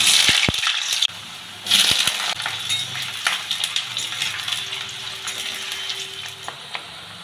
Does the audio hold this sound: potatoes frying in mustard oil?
yes